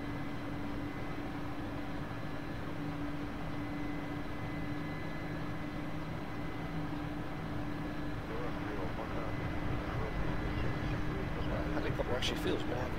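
A helicopter flies in the DCS combat flight simulator, giving a continuous droning engine and rotor hum with a steady tonal whine. The sound stays level throughout, and some rising noise and crackle comes in near the end.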